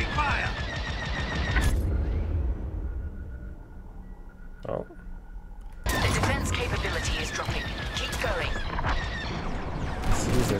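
Laser cannon fire from a starfighter in Star Wars Squadrons, rapid repeated zapping shots over engine hum, pausing for a few seconds before the volley resumes, with a voice talking over it.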